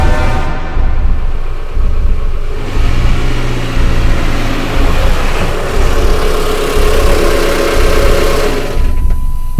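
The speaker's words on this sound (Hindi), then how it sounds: "अचानक कार का इंजन खराब होने लगा और हेडलाइट्स एक पल के लिए टिमटिमा गईं" A car engine running rough and faltering on a lonely dark road, a loud continuous mid-to-low rumble with uneven knocking pulses, dropping away toward the end.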